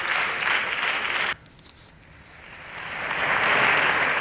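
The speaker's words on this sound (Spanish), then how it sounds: "Aplausos para Alberto Garzón tras su intervención en este pleno del Congreso de los Diputados" Applause in the Spanish Congress of Deputies during a plenary session, a broad steady clatter of many hands that breaks off abruptly, leaving a brief hush before a second wave swells back in, louder toward the end.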